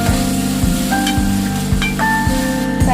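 Curry leaves and ginger garlic paste sizzle loudly in hot oil for a Lingapuram-style chicken curry, a steady close frying hiss broken by regular soft spatula scrapes against the pan, with no voices.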